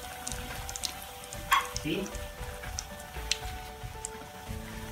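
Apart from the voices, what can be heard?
crispy tuna causa patties frying in hot oil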